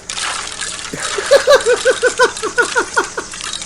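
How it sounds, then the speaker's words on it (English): A hand stirs a bucket of ice water, producing about a dozen quick, rhythmic sloshing splashes close by, preceded by a softer swirl of water. "Give it a good old stir."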